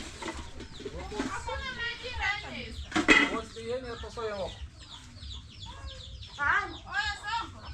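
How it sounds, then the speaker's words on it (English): A hen being caught by hand in an African yard clucks and squawks in agitated bursts, close by, with a loud flurry of cackling midway while someone talks over it. "I'll show you how we normally use the technique to catch the hen."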